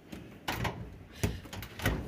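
Metal wrench drawer in a tool box sliding open and shut, several short rattling clunks and scrapes spaced irregularly, close and moderately loud, with no talking.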